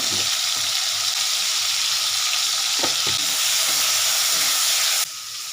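Green chillies and turmeric frying in a pan for a sour fish curry, giving a loud, steady sizzle and hiss of hot oil with a few brief stirring knocks, the sizzle dipping slightly at the end.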